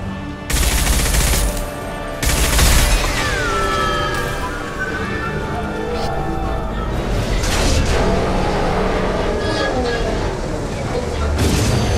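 Heavy gunfire in the video game Mass Effect 2, with loud bursts and rattling fire interrupting a busy battle mix of whooshing sweeps and tones, plus voices speaking over the combat.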